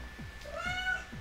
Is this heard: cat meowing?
yes